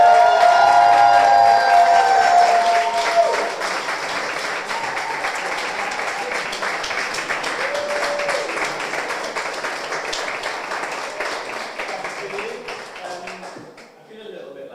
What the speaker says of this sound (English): So if we could give Steve a massive round of applause